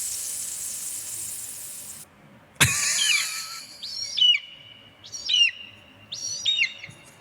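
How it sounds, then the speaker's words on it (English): Birds calling outdoors on a sizzling hot day, a few short rising chirps and whistles at moderate distance after a hiss of background noise, with no talking. "We got birds out there looking for something to eat because it's so hot."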